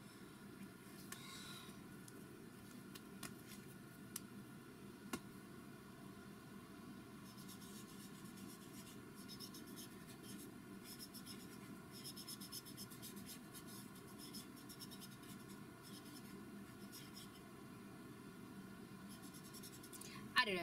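Winsor and Newton pigment markers scratch steadily across paper in a quiet room, a soft continuous scribbling rasp with a few small taps from the marker tip.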